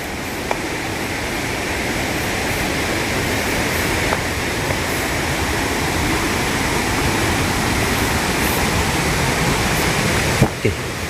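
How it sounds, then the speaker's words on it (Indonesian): A river runs beside a large house in the forest, one of two rivers flanking it, and makes a loud, steady rushing roar that fills the scene without a break. "Di kiri sini juga sungai ya"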